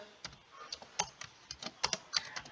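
A computer keyboard clatters as a chat message is typed, with quick, uneven bursts of light key clicks at close range and short pauses between words.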